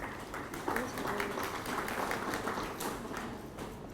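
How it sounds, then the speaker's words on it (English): Applause at a regional cocoa research symposium for West and Central Africa: a dense, continuous patter of many hands clapping at moderate volume throughout, with some faint crowd noise underneath. "a round of applause for Dr. Anna Muiwa, please."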